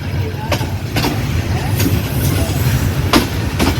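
Jayantika Express running on the Dhaka–Sylhet route, a steady low rumble of railcars with periodic clicks of wheels over rail joints, continuous and fairly loud throughout.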